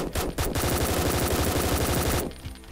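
Rapid automatic gunfire in the pixel-art SWAT video game Door Kickers Action Squad, a loud continuous burst of shots that stops abruptly near the end, with no talking over it.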